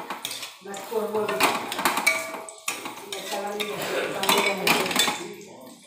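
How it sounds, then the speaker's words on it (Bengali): Masala being stir-fried (koshano) in a pan, with a spatula repeatedly scraping and clinking against the metal in close, busy bursts of clatter that run almost without a break. "এই যে মশলাটা কষাচ্ছি, আর একটু মশলাটা কষাবো"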